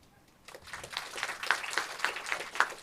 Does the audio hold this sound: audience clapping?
yes